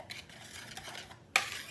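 A whisk swishing through cake batter ingredients in a bowl, soft repeated strokes ending with a sharp clink against the bowl rim, quiet and close.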